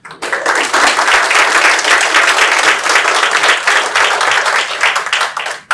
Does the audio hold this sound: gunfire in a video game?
no